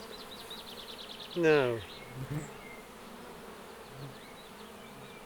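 Honey bees hum steadily in an open hive with the honey super lifted over the brood chamber. The close, even buzz runs throughout, with one short spoken word early on.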